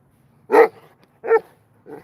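Dogs outdoors give three sharp barks, the first two loud and close, the last softer, spaced by quiet gaps with faint background noise.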